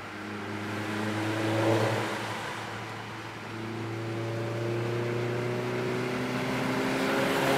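A Corvette fitted with a ZZP ported intake manifold accelerates, heard from inside the car as a steady engine drone that rises in pitch and swells, then climbs again through a second gear, with no talk over it.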